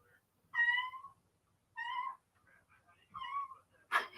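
A cat gives three short, clipped meows that sound almost like small barks, evenly spaced and fairly close, with a brief noisy burst at the end.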